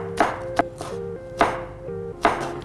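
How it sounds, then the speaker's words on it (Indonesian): A knife chops three curly red chili peppers on a board for spicy crispy fried tempeh, giving several sharp, close, irregular thuds spaced a fraction of a second apart with no talking. "Nah, sekarang kita akan rajang cabenya. Ini 3 buah cabai keriting ya."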